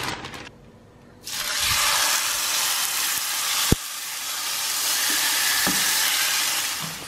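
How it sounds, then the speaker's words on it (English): Beef tongue for lengua tacos hits a hot pan and breaks into a loud, broad sizzle that holds steadily after a brief quiet start, with one sharp clack partway through and no talking. "I'm going to cook it on this pan right now."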